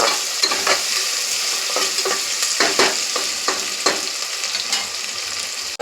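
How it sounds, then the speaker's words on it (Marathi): Sliced onions fry in hot oil in a pan for matar pulao, making a steady close sizzle with occasional clicks and stirring scrapes. "आणि नंतर उभे चिरलेले कांदे टाकून चांगले आपण फ्राय करून घेऊ."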